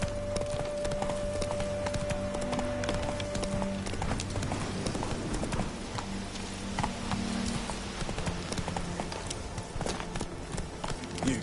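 Roach the horse gallops in The Witcher 3, with a steady, dense clip-clop of hooves over ambient game sound and music, continuous and fairly loud.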